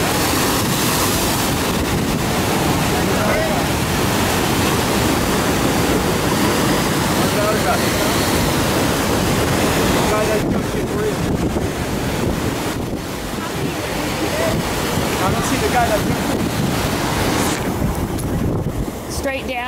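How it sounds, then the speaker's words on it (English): Ocean waves surge continuously onto a lava-rock shore in a deep, unbroken roar, with heavy wind buffeting the microphone and no clear speech. "The waves just keep coming and coming and coming."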